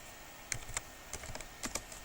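Someone types on a computer keyboard, entering a MySQL command as a few quiet, irregular key clicks close by, spaced across two seconds.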